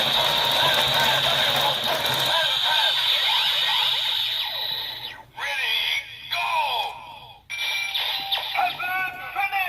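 A Kamen Rider Build Hazard Trigger toy is cranked, producing a loud, rapid ratcheting clatter layered with bright electronic tones and effects that carry on continuously, with short breaks as the cranking pauses and starts again.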